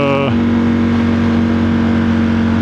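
A Ducati Streetfighter V4S motorcycle engine drones loud and close on a ride up Blood Mountain, shifting pitch at the start and then holding one steady note.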